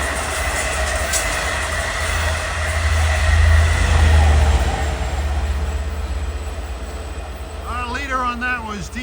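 A Long Island Rail Road commuter train passes Queens Village during the morning rush, a loud close rumble with rhythmic wheel clatter building and fading, while a helicopter's warbling drone rises near the end.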